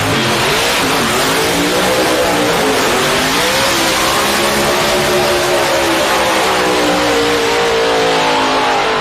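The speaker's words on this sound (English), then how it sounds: "The burnouts, and that's one of my specialties, the burnout." Hot rod doing a burnout at Maryland's Cecil County Dragway, a loud continuous roar of a revving engine with shifting pitch and hissing tire spin, sustained throughout.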